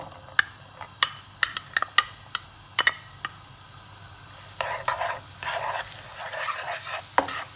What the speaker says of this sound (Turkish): Tereyağımız iyice eridikten sonra soğanımızı atalım.